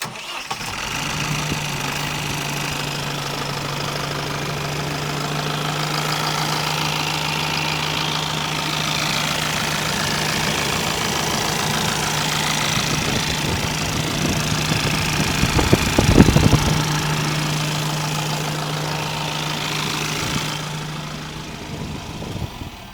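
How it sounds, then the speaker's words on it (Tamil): A steady four-cylinder rear engine idle from an Eicher Skyline Pro 10.5 m bus drones on with a constant low hum and a brief rougher surge near the end, close by and fairly loud, no talk. "இதுதான் இன்ஜின் பேக்குள்ளே இருக்கக்கூடிய இன்ஜினோட சவுண்ட்"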